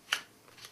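A quick riffle of playing cards during a milk shuffle card control, a single crisp burst followed by a fainter second flutter, close and isolated with no talking.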